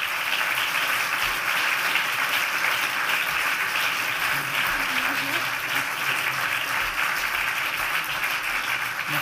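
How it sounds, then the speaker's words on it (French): Sustained audience applause at an ethics award ceremony, honoring filmmaker Antoine Raimbault for his film Une affaire de principe; steady dense clapping from a crowd fills the whole stretch at an even level. "Je vous demande d'applaudir Antoine Rimbaud pour le film Une affaire de principe."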